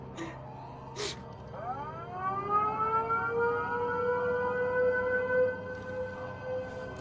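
A wailing alarm siren in a Resident Evil game, rising in pitch from a low start and then holding a long steady howl, after a sharp bang near the beginning.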